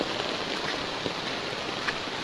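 Heavy monsoon rain pours down in Dhangadhi, Nepal, with streets flooding, making a dense, steady hiss of drops striking surfaces close by, unbroken and with no voices.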